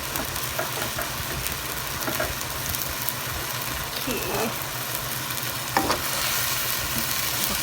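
Rice noodles, rinsed in clean water, stir-fried for Lao-style fried noodles in a pan: a steady, close sizzle and crackle runs throughout, with occasional scraping stirs.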